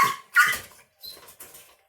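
A dog whimpers and whines in short high-pitched bursts while being fitted with a seat belt restraint during agility training, three or four close, fairly loud cries with brief pauses, no talking over them.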